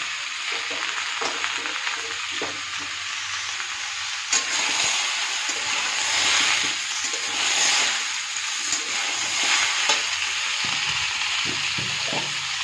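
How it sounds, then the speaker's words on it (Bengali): Kohlrabi pieces fry with potato and onion in a pan, giving a steady sizzle, with repeated spatula stirring scrapes and clatters over the frying. "আলু পেঁয়াজটা ভাজা হচ্ছে এর সাথে ওলকপিগুলো দিয়ে দেবো ওলকপিটা দিয়ে ভেজে নিলাম"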